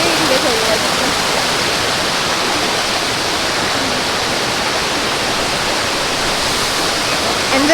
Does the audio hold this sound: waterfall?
yes